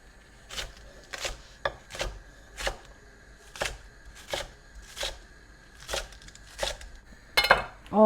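Knife thinly slicing a bunch of spring onions on a board, about a dozen crisp, evenly paced chops close up with quiet gaps between, a brief clatter at the end, no speech.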